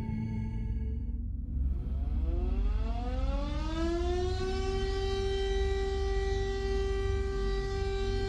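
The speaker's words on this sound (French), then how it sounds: "Tous les premiers mercredis du mois, à midi pile, la sirène hurle." A civil defense alarm siren wails, rising steadily in pitch to a sustained high tone over a constant low rumble, loud and alone, with no voices.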